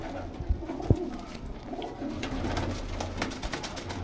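Pigeons coo softly in low, rolling calls against a busy background murmur, with a couple of faint knocks.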